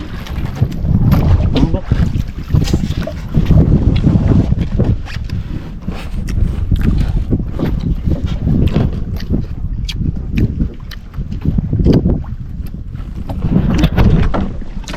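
Fishing boat engines and rushing water drone on out in the open at sea, with wind buffeting the microphone throughout.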